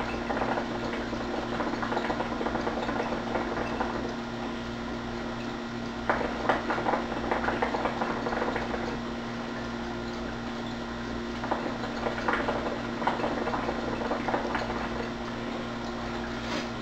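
A 31-inch Syrian brass shisha pipe with rosin coals and its hose bubbles steadily as it is drawn on, a soft continuous gurgle with a few stronger pulses, close by and alone.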